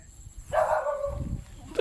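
A dog barks out in an evening rice paddy field: one drawn-out, fairly close bark with a short whimpering yip right after it, set against quiet rustling background noise.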